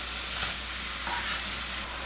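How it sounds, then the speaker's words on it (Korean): Radish simmers in salted water in a hot frying pan, giving a steady close sizzle and bubbling with light stirring throughout. "달궈진 후라이팬에 물을 넣고 천일염 소금 반 스푼 제가 뿌려요"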